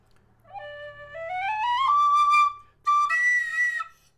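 A low whistle is played loudly, a clear breathy melodic line rising through several sustained notes, then a short break before a higher, pushed note that strains slightly.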